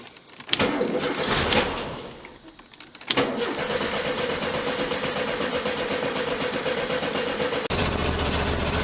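A 1973 VW Super Beetle with a Compufire ignition cranks briefly, pauses, then catches and settles into a steady, close idle that runs on to the end.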